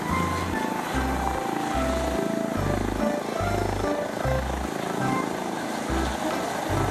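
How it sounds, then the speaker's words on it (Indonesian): A toy helicopter gives off a continuous electronic rotor whir with a pulsing low beat repeating underneath, fairly close and steady throughout, with no talking. "Wow, wow, wow. Yang ini ada helikopter, teman-teman."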